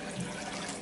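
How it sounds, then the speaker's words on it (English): Water is poured briefly into a container over leftover blueberries, a short close splashing gush at even volume with no voices. "And then add some water"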